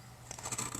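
Scissors snip through fabric being cut for a face mask, a quick run of close, crisp cuts following a quiet start, with no talking.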